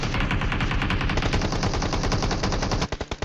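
Rapid automatic gunfire rattles continuously in a battle royale video game, a dense loud stream of shots ending in a few separate heavy bursts, with no voices.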